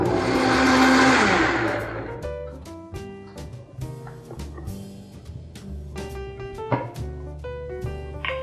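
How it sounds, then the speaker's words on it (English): A kitchen blender whirs loudly for about two seconds, mixing a sweet vegan brunch mixture with maple syrup, then spins down and stops, followed by quieter kitchen clatter. "We're gonna blend it up now."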